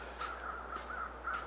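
Vultures in The Long Dark call in a few short, harsh cawing bursts, evenly spaced and moderately near, against a faint steady hum with no talk.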